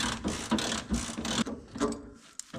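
A ratchet clicks steadily in short bursts while loosening a nut on the front suspension of a VW Vanagon during teardown, close and moderately loud.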